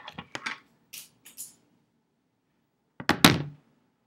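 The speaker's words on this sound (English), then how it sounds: "She knocked my pen over." A pen knocked over on a desk gives a few short, sharp taps and clatters near the start, then a louder clustered knock and rattle about three seconds in, close by with no talking.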